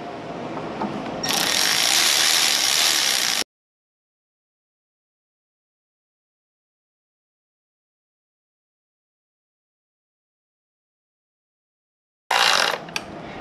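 A ratchet snugging down valve cover bolts on a 2015 Honda Accord, giving a few seconds of close, rapid clicking that stops abruptly, then a short burst near the end.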